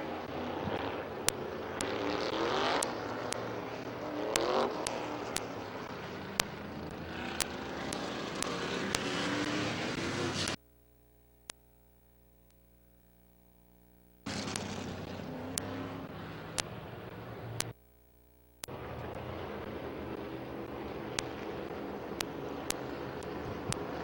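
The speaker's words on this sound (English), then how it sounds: "Heat race number 3 for the open modifieds." Open modified race cars roar through a heat race at Midvale Speedway's fall classic, a dense loud engine din broken by clicks and two abrupt dropouts, with no voices heard.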